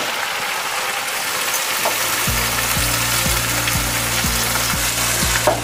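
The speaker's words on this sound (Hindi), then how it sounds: "इसको थोड़ा सा फ्राई करेंगे। तो हम इसमें चिकन डाल देंगे।" Chicken tossed into hot oil with salt and crushed green chili for a karahi fries with a loud, close, constant sizzle, while a low steady hum runs underneath from partway through.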